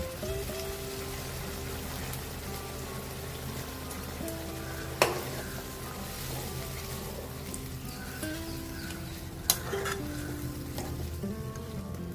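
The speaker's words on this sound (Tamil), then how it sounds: "இது ஒரு அஞ்சு நிமிஷம் கொதிச்சா போதும்" Chettinad kosumalli of eggplant and potato with coriander and turmeric simmers in a pot, giving a continuous close bubbling sizzle with stirring and two short metallic clinks.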